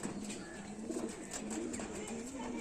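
Pigeons coo steadily in a loft kept for sale, including Indian fancy breeds, with soft repeated low coos and some chirps continuing throughout.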